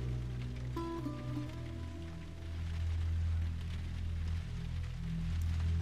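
Rain patters steadily in The Last of Us, with a continuous wash of drops over a low sustained hum and a few soft tonal notes.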